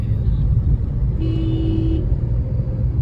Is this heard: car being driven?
yes